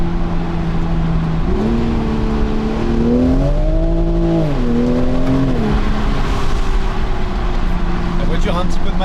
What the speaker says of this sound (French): On entend quand même le son rageur du 6 cylindres, mais qui est rendu un petit peu asthmatique avec les turbos